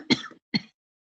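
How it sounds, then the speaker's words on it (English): Over an unmuted microphone, a person gives two short throaty coughs, close and dry, separated by a brief pause before silence. "I'm hearing a cough."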